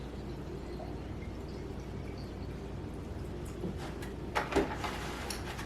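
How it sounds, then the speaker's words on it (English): Spring water is poured into a jar of strawberry tops for fruit scrap vinegar, a quiet background hum giving way to a few brief splashing, trickling bursts near the end. "now I'm going to add some spring water"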